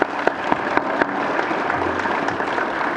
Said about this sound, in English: One more big round of applause for both our graduates and our supporters